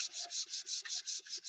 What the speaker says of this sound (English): You want to keep sanding these until you can't feel the seam.